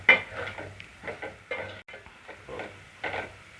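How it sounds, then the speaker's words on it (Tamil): Spice powders, chilli, turmeric and salt, being sautéd in a pan for Tamil egg gravy, heard as repeated close scraping stir strokes in an uneven rhythm with a light sizzle beneath, no voices. "மசாலா பொருள் நல்லா பச்சை வாடை போகிற வரைக்கும் வதக்கிக்கிட்டே இருங்க."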